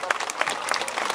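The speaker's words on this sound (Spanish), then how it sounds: "recibamos pues como se lo merece, con un fuerte y caluroso aplauso" An audience at a Three Kings' Day celebration claps loudly and steadily in a brief, dense burst of applause.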